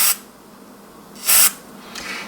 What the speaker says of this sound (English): we're going to take our deoxit, D5, and we have our little spray straw on it, and we're going to spray some into the gap